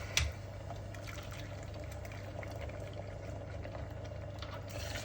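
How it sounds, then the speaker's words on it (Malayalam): Boiling water poured from a vessel onto lentils in a cooking pot for lentil soup, a steady continuous splash and gurgle of liquid lasting several seconds, close and moderately quiet. "ഞാൻ തിളച്ച വെള്ളമാണ് ഒഴിക്കുന്നത്."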